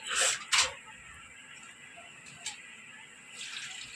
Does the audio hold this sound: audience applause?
no